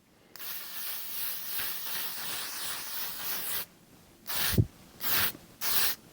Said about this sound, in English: I'm gonna use the L'Oreal 3-second setting mist